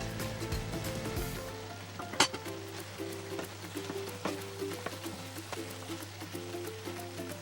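Garlic butter sauce simmering in a pan, a soft steady sizzle with faint crackles and pops, quiet and continuous under light background music.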